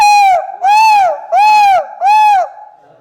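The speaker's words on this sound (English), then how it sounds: "Just as an owl gives a hooting call" An owl gives four loud, close hooting calls in an even rhythm, each a smooth rising-and-falling tone, with nothing else heard.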